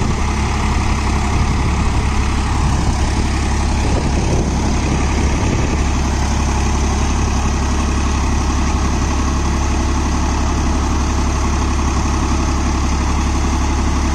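A Swaraj 963 FE CRDI diesel tractor engine idles steadily and loudly up close, a constant low rumble throughout with no speech.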